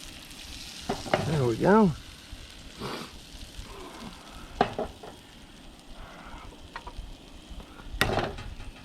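Butter sizzling in a frying pan during camp cooking, a soft continuous crackle punctuated by scraping and clinking of a utensil against the pan, with a brief spoken remark.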